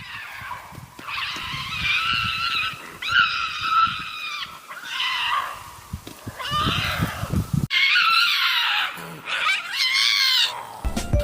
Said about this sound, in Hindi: जब इनका मेटिंग सीजन होता है ना, तब ये किसी चुड़ैलों की तरह चिल्लाती हैं।